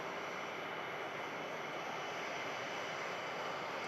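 A Jet2 Airbus A321neo arriving at Manchester Airport after a flight from Alicante gives a steady, broad engine roar that holds at an even level from start to end, with no talk over it.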